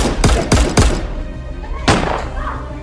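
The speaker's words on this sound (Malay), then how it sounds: "Kalian semua hanya boleh tembak udara saja." Gunshots fired into the air during a staged battle in a Malay historical drama: three sharp, loud reports in quick succession, then a pause and a fourth shot, each with a short echoing tail.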